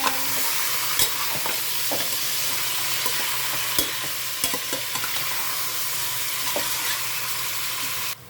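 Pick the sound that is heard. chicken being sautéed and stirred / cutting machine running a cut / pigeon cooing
chicken being sautéed and stirred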